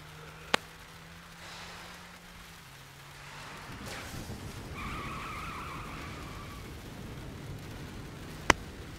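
A car driving in Saints Row: The Third, a low engine hum that shifts down, then a rough hissing rumble of tires on the road, with two sharp clicks at the start and end and a faint whine midway.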